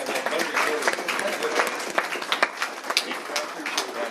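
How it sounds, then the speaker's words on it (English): A crowd at a city council meeting breaks into steady applause, many hands clapping together in a dense, continuous patter that carries through the whole stretch at moderate loudness, with voices talking underneath. "can we give a round of applause to the quality work that they did as well?"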